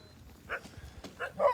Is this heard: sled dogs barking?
yes